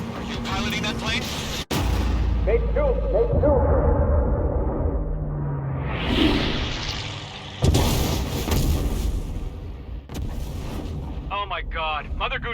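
In the combat flight game Ace Combat 7, a missile strikes and downs a plane with sharp explosive blasts and a heavy, rumbling roar. A second burst of noise follows partway through, and voices talk faintly under the din.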